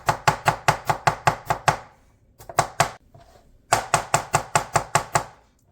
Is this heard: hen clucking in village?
no